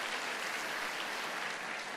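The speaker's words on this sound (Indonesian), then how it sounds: "Tepuk tangan buat jemaat yang luar biasa." A church congregation claps together in a steady, dense burst of applause, heard from a distance and fairly faint.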